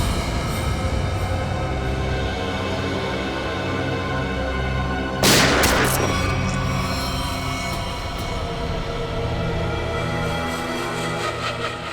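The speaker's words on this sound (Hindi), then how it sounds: "चलाओ गोली, चलाओ गोली" A single loud gunshot in a CID Hindi TV crime drama scene bursts out midway through sustained, swelling dramatic background music.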